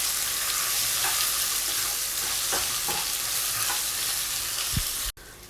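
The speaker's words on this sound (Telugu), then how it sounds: "గార్లిక్ పేస్ట్ వేసిన తర్వాత గార్లిక్ పేస్ట్ అంతా కూడా పచ్చివాసన పోయేంత వరకు ఫ్రై చేసుకోవాలండి." Garlic paste frying in a pan gives a steady, close broadband sizzle with a few soft stirring scrapes, cutting off abruptly near the end.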